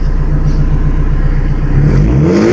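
A 1988 Nissan Hardbody pickup with a swapped SR20DET turbo engine idles with a steady low burble, then is revved once near the end, the pitch climbing sharply, loud and close.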